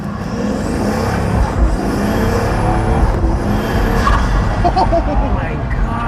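Pagani Huayra supercar accelerating hard with turbos, a loud engine roar rising and surging through gears with turbo whoosh, heard from inside the car while excited voices shout over it.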